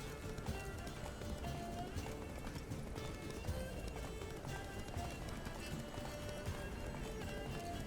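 Hooves pound steadily as Geralt's horse Roach gallops in The Witcher 3, a continuous rapid clip-clop under game sounds and faint voices.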